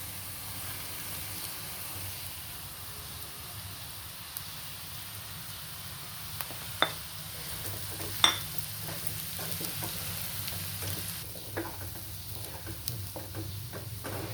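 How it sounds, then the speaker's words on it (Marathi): Ground peanut chutney stirred and frying with onions in a pan, a steady soft sizzle with occasional scraping clicks of a spoon, close and moderately quiet, with no talk. "आता ही वाटलेली चटणी आहे ना, ती टाकून घेऊ"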